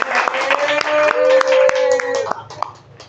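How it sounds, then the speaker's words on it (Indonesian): People clap their hands at a Sunday coffee forum gathering, a burst of sharp hand claps with a voice talking over them, fading out after a couple of seconds. "Tepuk tangan dulu."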